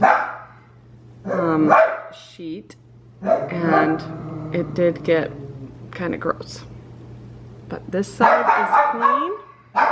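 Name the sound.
dog barking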